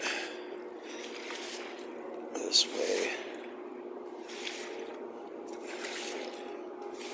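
A broom pushes water across a courtyard, making a steady wet swishing and squishing with a few drips. A person talks over it.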